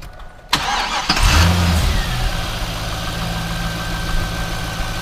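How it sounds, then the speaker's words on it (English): A 2002 Pontiac Trans Am engine cranks and catches with a sharp burst, then settles into a steady, fairly loud idle close by. "We'll go ahead and start it real fast. You can hear it run."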